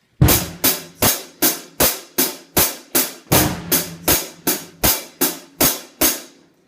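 A hi-hat cymbal ticks in a steady rhythm while a bass drum pedal thumps underneath on some of the beats, a simple close-up drum kit groove played alone.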